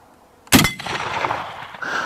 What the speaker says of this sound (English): Man, that is a fun rifle to shoot.